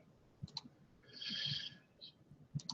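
A computer mouse clicks a few times in a quiet room: short, sharp taps near the start and again at the end, with a brief tonal chime-like sound in between.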